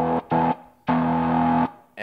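Distorted electric guitar is gated on and off with a Guitar Wing touch strip in Guitar Rig, producing a short burst, a second chunk, then a longer sustained chord that cuts off abruptly, loud and close, with no talking.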